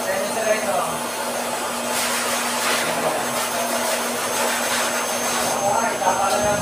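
A blower drying a dog roars steadily up close, a constant whooshing airflow with faint voices talking underneath.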